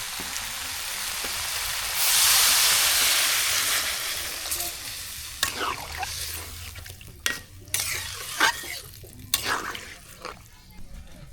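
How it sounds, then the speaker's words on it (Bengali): Water poured into a village curry pan hits with a loud burst of hissing steam and sizzle that then eases into quieter bubbling, followed by repeated scraping strokes of a spoon stirring, close up, with faint voices nearby. "এখন পানি দিয়ে দিই।"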